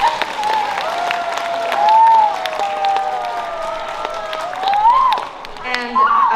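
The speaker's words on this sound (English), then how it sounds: "so big round of applause for Chris Fierro." An audience at a school winter concert claps and applauds. The steady applause is moderately loud and partly masked by a tonal voice above it.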